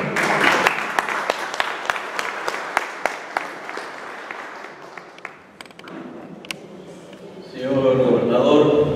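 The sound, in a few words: audience applause for the mayor's representative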